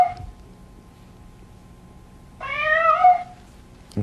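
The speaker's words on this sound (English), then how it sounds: "Here's the one for the cat." A single cat meow, clear and fairly close, rising and falling over about a second after a quiet pause, played as one of a series of farm and zoo animal sounds.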